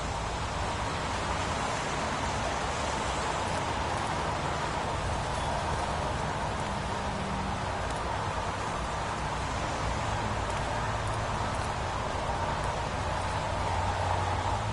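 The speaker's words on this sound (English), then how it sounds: "Goddamn rain. Hasn't stopped pouring since I arrived." Heavy pouring rain makes a steady, dense hiss that fills the whole scene, even and unbroken throughout with no voices.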